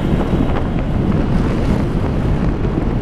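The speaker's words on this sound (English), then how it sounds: "Wind is really pushing this thing around today" Strong, steady wind buffeting a microphone while riding a scooter on a twisty stretch of old Route 66 in gusty crosswinds, a loud continuous low roar with no speech.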